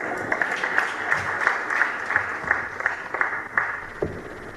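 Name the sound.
audience applause at Uganda Water and Environment Week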